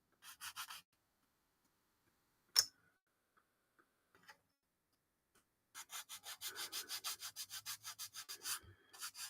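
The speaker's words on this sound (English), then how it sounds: "So we got to sand the edges. We'll sand them now where we cut everything off." Cut edges of a wooden workbench project are sanded by hand in quick, rhythmic back-and-forth strokes. A short burst comes first, then a sharp knock, then a long, steady run of strokes, close by in a quiet room.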